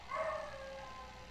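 A dog gives a faint, distant howling whine at home on a Sunday evening, one brief drawn-out tonal cry that fades out over about a second under low background noise.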